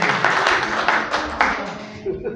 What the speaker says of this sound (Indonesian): Tepuk tangan dulu lah untuk Pak Medi ini.